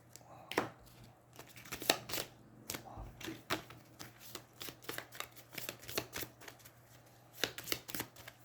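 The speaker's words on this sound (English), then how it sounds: "They each gain a Corruption card and shuffle." Cards from the Aeons End 2nd Edition deck-building game being shuffled, a rapid run of riffling bursts and soft slaps repeated several times, close up and fairly quiet.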